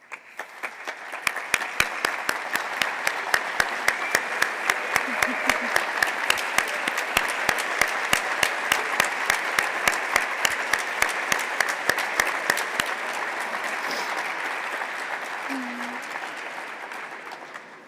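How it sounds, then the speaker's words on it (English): Audience applause at a physical therapy white coat ceremony, steady dense clapping from a large crowd that holds for the whole stretch, loud and even, then tapers slightly near the end. "please rise to be recognized with a round of applause"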